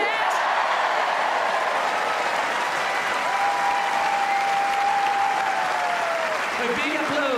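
The Wimbledon crowd at an invitation doubles tennis match fills the air with loud, continuous applause, dense and even throughout, with a faint whistle-like tone gliding over it midway.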